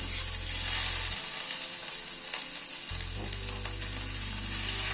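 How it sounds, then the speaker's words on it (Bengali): Crushed garlic and green chillies fry in hot oil with a steady, close sizzle, and a low hum runs beneath it. "রসুন আর কাঁচা লঙ্কাটাকে হালকা করে ভেজে নেব।"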